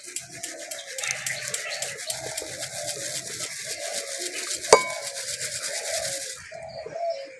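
Roasted chickpeas are sieved out of hot salt with a metal strainer, making a steady gritty rasping and rustling that runs on throughout, with one sharp clack partway through before it thins out near the end.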